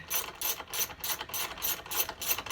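Ratchet being worked while refitting the muffler on a Stihl leaf blower, a close, loud series of rapid clicking bursts repeating in an even back-and-forth rhythm, with no talking.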